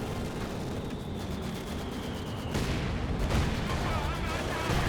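Mortar and artillery fire in the WWII strategy game Company of Heroes 2: a dense, continuous wash of explosions and gunfire, loud and sustained, with a sharper burst partway through and a commentator's voice mixed in.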